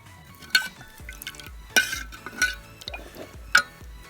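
A spoon stirs milk with garden cress seeds in a pan over a low flame while kheer cooks, giving soft liquid swirling broken by four light metallic clinks against the pan.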